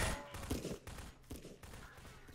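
Gunfire in the Half-Life mod Absolute Pressure, with scattered shots and bursts of varying distance from combatants firing from above, fairly quiet and mixed with other battle noise.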